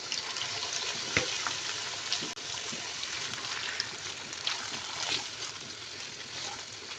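Beef frying with softened onions in a pan, a continuous hissing sizzle with scattered pops and a couple of scraping stir sounds, no talk.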